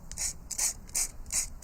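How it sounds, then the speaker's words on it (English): Hand sanding of Stamperia MDF shapes: rhythmic rasping strokes, about five bursts of scratchy friction with short pauses between, close and moderately quiet. "sanding."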